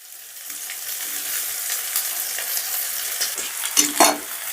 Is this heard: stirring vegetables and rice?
yes